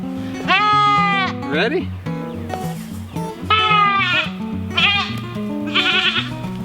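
Goats, young fast-growing kids, bleat loudly and repeatedly in long wavering cries close by, several calls overlapping while a person briefly speaks.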